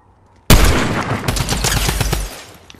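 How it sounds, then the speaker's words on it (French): Gunfire in the video game Fortnite, a sudden loud close burst of rapid shots after a brief quiet start, rattling in a fast volley for about two seconds before tailing off. "ça tire sur Caro là"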